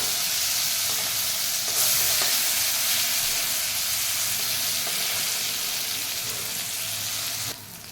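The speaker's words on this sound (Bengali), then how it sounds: "এবার আস্তে আস্তে নেড়ে দিতে হবে যাতে খুলে না যায়।" Steady, loud sizzling of bitter gourd frying in a pan with spices, with faint scraping of stirring throughout and no voices.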